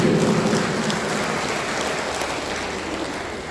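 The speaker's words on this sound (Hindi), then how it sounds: "जोरदार ताली से स्वागत कीजिए प्लीज" Applause greets a guest at a National Hawkers Federation foundation day event in Pasighat, Arunachal Pradesh, a dense, steady wash of clapping from a crowd that holds evenly for the whole stretch with no voices on top.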